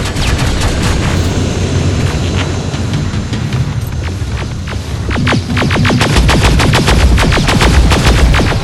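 Gunfire in Terminator: Resistance rattles loudly and continuously, as a chaotic mix of overlapping shots builds into rapid, sharply spaced bursts toward the end over heavy rumbling battle noise.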